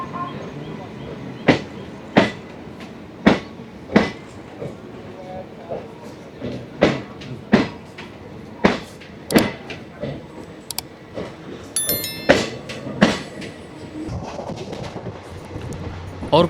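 Sleeper-class coach of the Salasar Express, Delhi to Jodhpur, running fast: rhythmic wheel clacks over rail joints repeat every second or so over a steady rumble, with a brief metallic rattle and some faint talk in the carriage.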